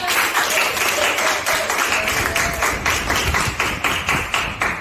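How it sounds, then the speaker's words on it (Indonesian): Group applause in a classroom-like gathering, fairly close clapping with a loose rhythmic pulse running steadily throughout. "Tepuk tangan untuk ketua"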